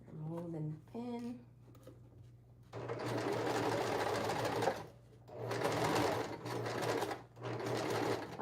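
A sewing machine stitches a skirt in two long whirring runs split by a short pause. A voice speaks briefly just before the first run.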